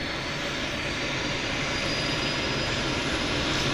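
A fixed-wing airplane's engine roars steadily and loudly at Vancouver Harbour Airport, a dense continuous drone holding close and constant throughout with no voices over it.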